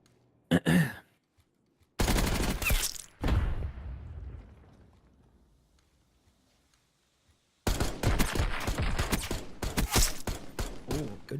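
Gunfire from a competitive video game match: a short burst, then two heavy volleys that ring out and decay, and after a pause a long, rapid stream of close, loud automatic shots.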